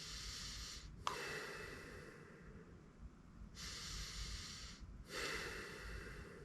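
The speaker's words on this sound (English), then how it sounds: "if you're breathing through your nose only, it should look something like this" Nose-only breathing during jump rope exercise: close, hissing inhalations and exhalations in a slow, regular rhythm, with each breath drawn through the nostrils.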